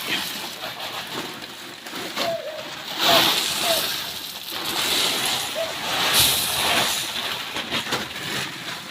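Water poured and sloshed into a gravel concrete mix during house construction, with repeated splashing and wet churning surges over several seconds, while people talk nearby.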